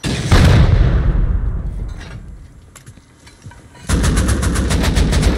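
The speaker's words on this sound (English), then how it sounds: "So they are shooting real rockets." Rockets fired in Rust Console Edition: a loud close blast burst at the start, a quieter stretch with scattered sharp cracks, then dense rapid gunfire-like bursts that continue to the end.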